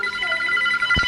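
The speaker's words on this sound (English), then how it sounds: "Oh wait, the phone." A phone rings inside a video game, a short electronic ringtone with steady bright tones lasting about a second, ending with a soft thump.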